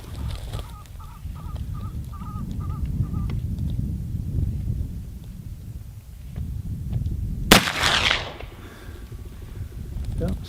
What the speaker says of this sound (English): If I shoot at it enough times, I should get it by luck anyway, at least once